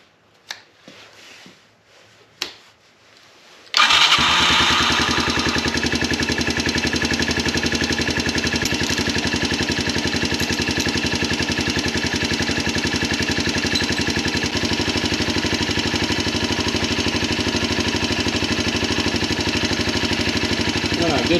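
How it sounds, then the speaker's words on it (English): A 1983 Yamaha Tri-Moto YTM200 three-wheeler engine, a barn find, is heard after a few faint clicks and knocks as it fires up suddenly and settles into a steady, close, continuous idle that runs to the end. "so I'm going to start this up, let it run"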